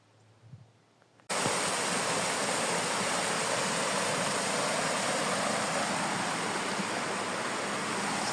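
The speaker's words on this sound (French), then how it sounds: "C'est ça la belle rivière que j'avais vue sur la carte là hier." A river flows steadily along a pilgrimage route to Santiago de Compostela, a loud, continuous broadband rush that starts abruptly after a quiet second and holds near and even throughout.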